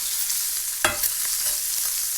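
Food for a BLT sandwich sizzles steadily in a hot frying pan, a close, loud hiss with a few soft clinks and stirring sounds; no voices.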